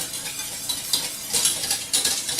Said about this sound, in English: I'm going to whisk that in and we're going to let this go.